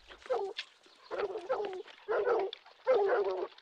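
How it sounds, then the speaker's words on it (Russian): Tracking dogs on a trail across a field give a run of four short, throaty barks and yelps in quick succession, close and fairly loud, with no talking over them. "Собаки обнаружили след."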